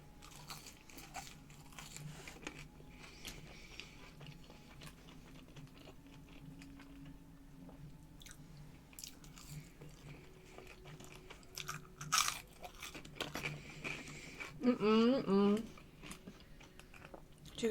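Crunchy chewing and biting of fries during an eating session, soft and close, with a few sharper crunches near the end, under quiet talk and mouth noises.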